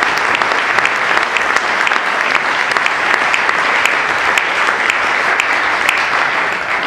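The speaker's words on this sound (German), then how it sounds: "Applaus" Dense, loud applause fills a hall during a German political party speech, a steady wash of clapping with crisp individual claps, unbroken for about seven seconds.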